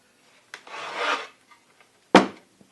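A pencil marks lines along a wooden board for a box joint jig in a quiet workshop, giving two short, close scratchy strokes separated by a pause.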